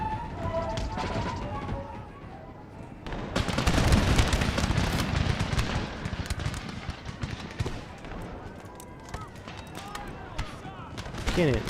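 Cannon artillery fire in the Empire: Total War battle game booms in heavy bursts amid crackling musket gunfire, loud and dense, with quieter stretches between volleys.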